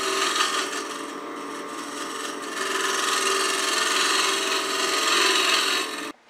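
A 3/16 inch cupped carbide lathe tool slices into spinning wood while turning a clamshell box, with a steady, rough rasping hiss that swells louder midway, then stops abruptly near the end.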